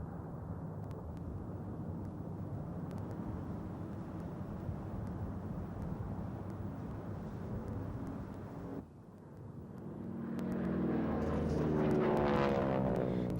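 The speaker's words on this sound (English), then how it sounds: "if you've never seen an aircraft land sideways" A North American Harvard aircraft landing at an air show gives a steady, distant rumble that drops briefly, then swells into a louder, nearer propeller engine drone at the end.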